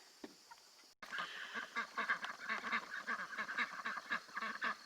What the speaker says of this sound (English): This is our Rouen ducks.